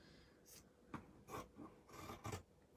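Purple fabric being cut for a gore, with a series of short, close rasping snips and rubs in irregular bursts, quiet and without talk.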